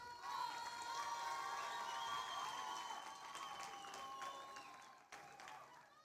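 An audience applauds and cheers to encourage young performers, with a dense blend of clapping, shouts and excited crowd noise, including children's voices, that runs steadily before a brief dip and resumption.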